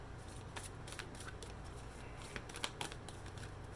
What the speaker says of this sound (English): Give these guys a good shuffle.